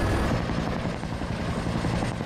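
A helicopter in Battlefield: Bad Company 2 thumps loud and close, its rotor chop a continuous heavy roar throughout with no voices.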